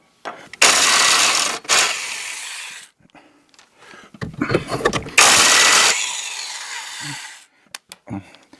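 A ratchet unbolts 17mm nuts from the steering knuckle of a 2006 Toyota Matrix: loud close bursts of rapid metallic clicking, broken by short pauses and a few softer knocks.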